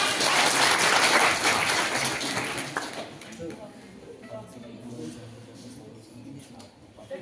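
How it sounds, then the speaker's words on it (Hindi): An audience at an Ayurveda Day quiz competition prize ceremony applauds a second-place winner receiving a certificate, a full burst of clapping for about three seconds that thins out as a voice and room chatter take over. "जोरदार तालियां।"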